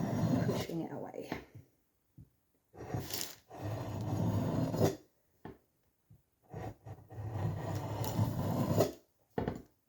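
A double-sided billhook blade is sharpened by hand in repeated rasping strokes pushed away along the edge. The strokes come in close, grainy bursts of a second or two, separated by short pauses.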